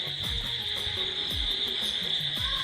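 Steady high-pitched insect chirring, like crickets, fills the background continuously, with a few low thumps and soft knocks scattered through it.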